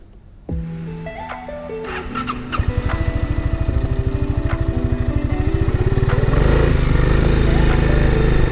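An Aprilia Atlantic 500 scooter, restored after ten years unused, starts up and idles before pulling away on a ride, its engine note thrumming close and rising steadily as it accelerates, with wind building around it.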